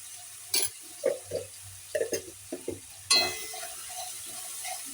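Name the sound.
ginger garlic paste sizzling with fried onions in a pan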